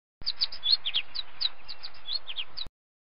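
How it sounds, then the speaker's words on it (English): A finch gives a quick run of high, bright chirps and tweets for about two and a half seconds, close and clear with no other sounds. "Finch."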